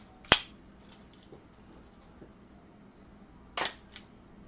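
A film SLR camera shutter fires with a sharp mechanical click, followed about three seconds later by a second crisp shutter release and a faint trailing tick, close and alone in a quiet room.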